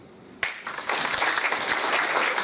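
Audience at a Korean book launch event for author Kim Ok-soon breaks into applause; after a quiet moment, dense clapping from many hands starts suddenly and holds steady and full.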